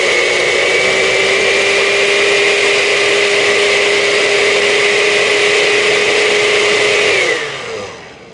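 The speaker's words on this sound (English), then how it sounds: "Are you gonna turn on the blender?" An electric blender whirs loudly and steadily while mixing a banana daiquiri on a mountaintop in St. Thomas, a close, continuous motor whine that holds for several seconds and then spins down at the end.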